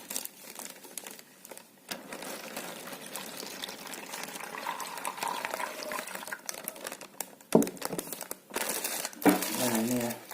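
Clean water poured into a plastic bag to prepare a nasal irrigation rinse, with crinkling plastic and splashing liquid that grow busier and louder toward the end, close up, with no talking.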